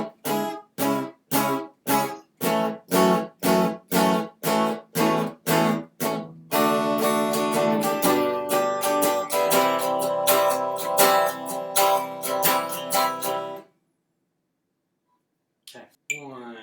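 Electric or acoustic guitar playing the bridge of a song, first a run of evenly spaced strummed chords, then a sustained ringing chord section ending on C, closing with silence and a brief faint sound at the end.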